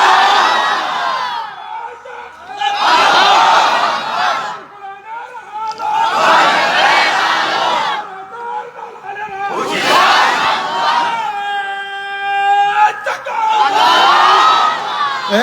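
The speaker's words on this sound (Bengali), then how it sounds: "দাঁড়িয়ে তাকবীর দেন।" A large crowd shouting takbir in unison at a Bangladeshi religious gathering, loud repeated chanted bursts separated by brief pauses, with a voice leading between them.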